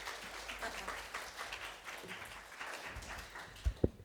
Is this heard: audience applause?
yes